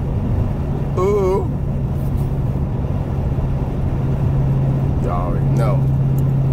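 A car drives along with a steady low engine drone and road rumble filling the background, while people talk and exclaim over it.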